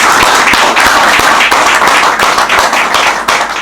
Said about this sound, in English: I want to give a round of applause to those individuals as well.